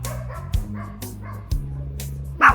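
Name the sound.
small dog barking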